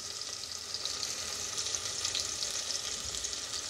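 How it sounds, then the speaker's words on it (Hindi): Onions fry in hot oil in a pan for arhar dal khichdi, giving a steady, dense sizzle with fine crackling that holds evenly throughout, close up and with no voices. "प्याज अच्छे से फ्राई हो गई है।"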